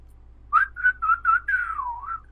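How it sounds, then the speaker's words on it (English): A person whistles a short run of clear, bright notes, five or six chirpy pitches that slide downward at the end rather than forming a tune. The whistling is close and heard alone over faint background hum. "Can I whistle?"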